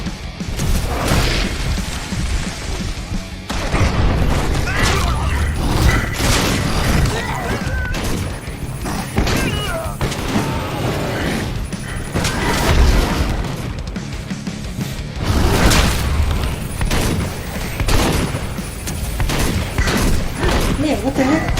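Repeated explosions and crashing combat blasts in Werewolf: The Apocalypse - Earthblood, loud booms and bursts arriving in clusters throughout, with a person talking over them.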